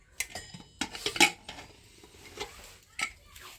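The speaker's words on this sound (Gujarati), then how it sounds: "તો મિત્રો જો હવે આપણે ઢાંકણું ખોલી લઈશું કુકરનું." Metal clanks and clatters come from handling a pressure cooker lid as it is worked open, with several sharp knocks close by and short pauses between them, at low volume.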